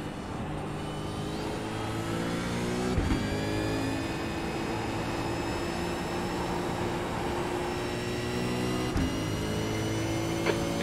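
Racing game car engine drones with steady tonal whine, pitch shifting gently as a car approaches from behind, with two sharp clicks or gear shifts punctuating the continuous sound.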